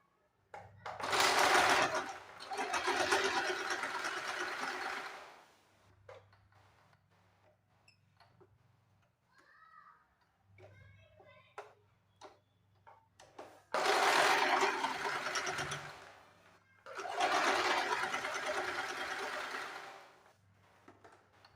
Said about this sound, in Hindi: यहाँ से हम सीधी सिलाई लगा देंगे